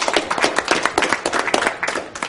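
A crowd at a retro video game charity marathon claps in a dense, steady patter of overlapping hands, fairly close and continuous throughout.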